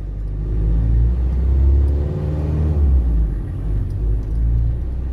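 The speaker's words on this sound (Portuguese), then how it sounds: "Então, isso aí é a embreagem trepidando." Toyota Hilux SR pickup pulling off in first gear with a worn, slipping clutch, a loud low rumble with uneven shuddering pulses of engine and drivetrain from inside the cab, and no speech.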